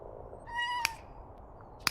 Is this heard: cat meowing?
yes